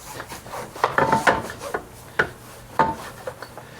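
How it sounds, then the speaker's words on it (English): A brush scrubs Woody Wax into a non-skid boat deck. Close, scratchy rubbing strokes come in irregular bursts with short pauses between them. "With the brush. I'm going to brush every inch."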